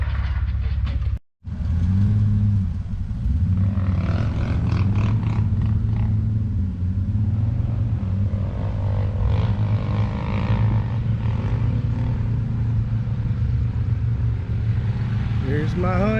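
A CFMoto side-by-side or ATV, a ZForce 950 Sport or CForce 600 Touring, drives along a trail in St. Helen, Michigan, its engine droning and revving steadily close by, with a brief dropout near the start.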